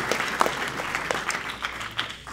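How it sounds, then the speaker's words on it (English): Applause from a conference audience at an energy startup showcase in New York, many hands clapping in a continuous, moderately loud patter that tapers slightly toward the end, without speech on top. "Round of applause for Elon."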